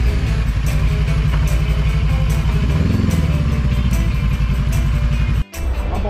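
Big-bike motorcycles, including a BMW R nineT, idle loudly up close as riders park them at a stop in Atok, Benguet. The deep, steady engine rumble carries a faint clatter and cuts out briefly near the end.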